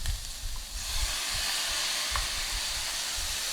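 Onions and mushrooms stirred in a hot pan for a chicken and green bean stir fry, making a steady, close hissing sizzle with soft scraping thumps throughout.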